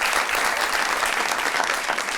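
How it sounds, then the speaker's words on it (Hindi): A studio audience on a Pakistani comedy talk show bursts into loud, continuous clapping, a close, dense roar of hands with no voices over it. "तालियां"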